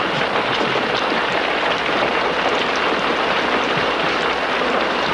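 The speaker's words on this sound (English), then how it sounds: "This is a lot of rain." Heavy rain pours steadily and loudly at close range, a dense unbroken wash of hiss and spatter that holds throughout with no voices.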